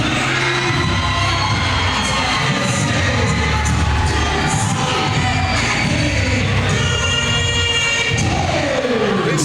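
A sold-out crowd at an Immortal Kombat wrestling show in St. Johnsville cheers and roars for Anthony Gangone's entrance, a dense, steady wall of shouting and whooping with scattered thumps throughout.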